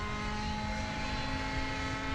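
Airstar Mongoose RC helicopter flying at an RC field, a steady droning rotor and engine whine with constant pitch and even loudness throughout, no talk.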